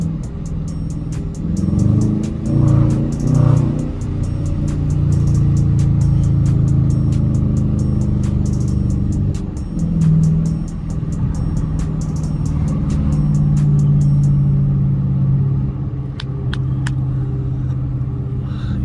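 Loud 5.7-litre Dodge Challenger R/T driving through morning traffic, its deep V8 rumble heard close and continuous, with swells of revving and acceleration against the steady drone of the road.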